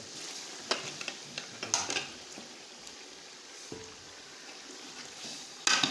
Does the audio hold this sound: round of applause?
no